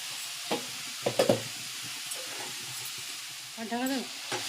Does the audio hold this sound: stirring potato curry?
yes